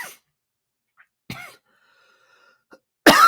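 A host on a live show coughs near the microphone, a few short, sharp coughs and throat sounds separated by silence, with the loudest burst at the end.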